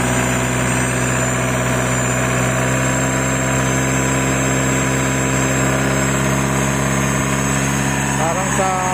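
A Mitsubishi Montero engine runs close and steady with a constant hiss like a revving turbo over a droning idle, a tone that holds level throughout.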